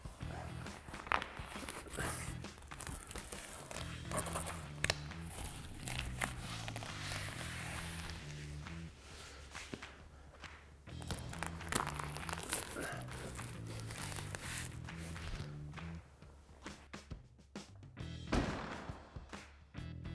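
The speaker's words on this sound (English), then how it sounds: "we're going to fold our top over and Velcro everything that needs to be Velcroed" A black twill Bestop Supertop Glide soft top on a Jeep Wrangler JL is folded over and its Velcro straps fastened, giving close, continuous crinkling and rustling of fabric with ripping Velcro bursts and occasional thumps throughout.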